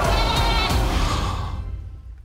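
A goat bleats loudly and close up in a single long, wavering cry that trails off toward the end, heard alone in a comedy courtroom setting.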